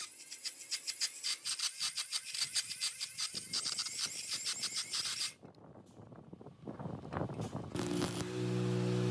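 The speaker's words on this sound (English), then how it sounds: "using another die grinder to open that hole up and connect" A die grinder opens up drilled holes in steel plate, giving a close, harsh, high grinding in rapid rhythmic strokes for about five seconds, followed by rougher scraping and a steady hum.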